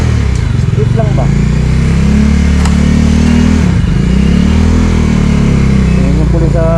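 A loud motorcycle engine drones and revs steadily on a city street in Valenzuela City, Philippines, with someone talking over it throughout.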